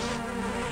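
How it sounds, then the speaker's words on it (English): A bee from Zelda: A Link to the Past gives a steady, close retro game buzz. Low tones drone under it the whole time, and nobody speaks. "You caught a bee."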